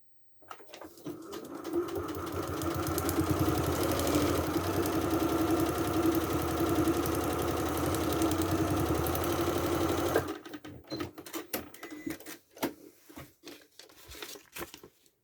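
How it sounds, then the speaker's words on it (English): A sewing machine runs steadily for about ten seconds, stitching the final seam of a quilt block, then stops, leaving a few scattered handling noises. "So I'll take this to the machine and sew the last seam."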